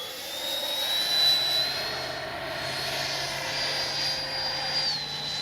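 A Freewing F-22 90mm electric ducted-fan RC jet makes a slow fly-by, giving a steady, moderately loud whine and rush of air that stays fairly constant with slight swells as it passes, with no talk.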